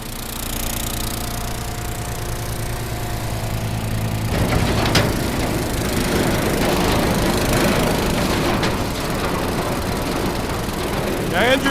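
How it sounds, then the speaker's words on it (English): A new conveyor with an engine running at idle gives off a steady, close mechanical drone with a regular thumping rhythm, and clattering material noise joins it partway through. "Andrew said that you can pretty much run this thing at an idle, and that's pretty much where it is right now"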